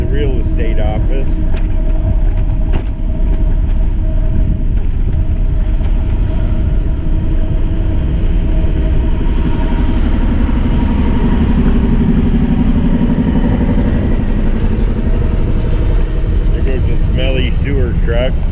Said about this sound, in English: Smelly sewer truck, smelly, noisy sewer truck.